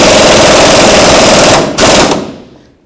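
Impact wrench tightening a control arm bolt on a 1984-2001 Jeep Cherokee, a loud, close rapid hammering burst that stops briefly, resumes, then trails off.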